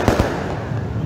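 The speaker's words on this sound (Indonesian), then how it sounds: "Kita lihat masih ada kembang api dinyalakan oleh warga" Fireworks set off by residents along Jalan Margonda Raya in Depok on New Year's Eve 2022 to 2023: two sharp bangs near the start, then a steady crackling, rumbling din from bursts going off farther away.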